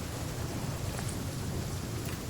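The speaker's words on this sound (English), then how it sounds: "It's still raining?" Steady rain falls in the survival video game The Flame in the Flood, a dense, even hiss of rainfall that continues unbroken and fairly loud, with no talking.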